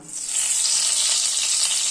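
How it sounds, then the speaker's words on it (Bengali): Five-spice seeds and bay leaf hit hot oil left from frying bora for a kofta curry and sizzle at once. The hiss is bright and continuous and swells within the first half-second, with no talk. "এই বড়া ভাজার তেলের মধ্যে আমি এই 5 ফোড়ন দিলাম, তেজপাতা দিলাম"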